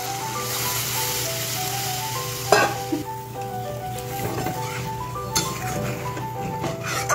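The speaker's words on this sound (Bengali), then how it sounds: "এবারে আমি লাউয়ের যে জলটা রেখেছিলাম সেটা দিয়ে দিচ্ছি" Bottle gourd water poured into a pan of well-fried spice paste for a bottle gourd kofta curry, giving a steady close sizzle with a brief splash and faint clinks, no talk.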